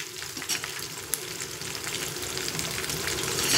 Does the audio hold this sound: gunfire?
no